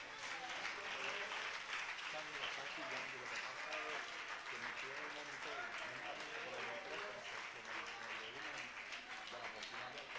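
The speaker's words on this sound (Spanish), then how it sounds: "denle un aplauso a Cristo" A church congregation applauds during a worship service, a dense continuous wash of clapping that holds steady and fairly distant from start to finish.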